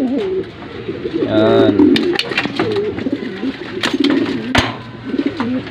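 Breeder pigeons coo in repeated throaty, rolling phrases close by, with a person talking over and between the calls.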